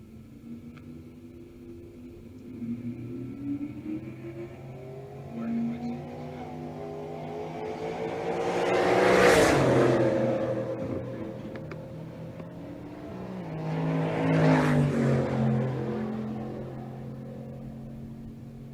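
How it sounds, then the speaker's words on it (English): Drag race cars, including a 1972 Pontiac Le Mans and a second-generation Camaro, roar as they launch and accelerate down the strip, building to two loud passes without talk. "Dylan Meyer in the right lane, the 72 Pontiac Le Mans."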